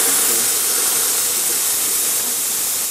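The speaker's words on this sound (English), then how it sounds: "You can hear the water coming out through the steam when it makes that" An espresso coffee machine's steam wand hisses loudly and continuously up close, a broad spray of steam mixed with sputtering water, steady throughout and fading slightly at the end.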